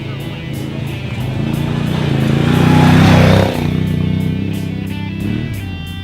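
Engine of a 2019 Can-Am Outlander 850 ATV droning steadily at close range while riding, swelling to a louder rev near the middle and then easing back, with no talking over it.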